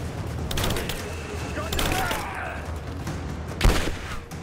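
Enemy gunfire in the Rise of the Tomb Raider video game, a steady clatter of shots and bursts running through the clip with one sharper report near the end, heard under intermittent talk.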